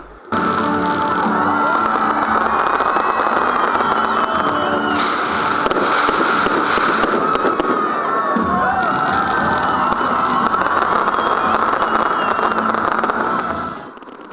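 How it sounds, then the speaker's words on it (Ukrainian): Fireworks crackle and pop continuously at a town's birthday celebration, loud and dense, with a crowd cheering and shouting underneath. "Незабутнім акордом дня народження золотоноші став яскравий феєрверк"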